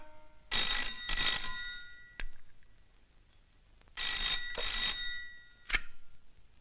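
An old-fashioned telephone bell ringing in two pairs of bright, trilling bursts separated by a short pause, loud and close, followed by a click, with no speech.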